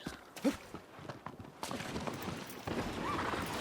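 Horse hooves clip-clopping in Shadow of the Colossus, a few soft hoof beats and a brief whinny early on, then a steadier background of movement, moderately quiet.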